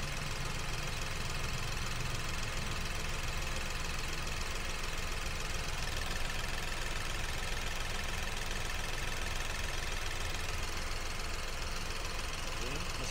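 A 2019 Datsun GO T manual car's original engine idles with an even, steady hum and fine ticking, close and continuous without change in pace, while a person talks faintly over it.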